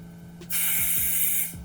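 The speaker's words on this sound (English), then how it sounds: "So spraying 505 and placing my piece of batting at the bottom." A burst of 505 temporary spray adhesive hisses steadily for about a second while being sprayed onto quilt batting, loud and close, with faint handling sounds around it.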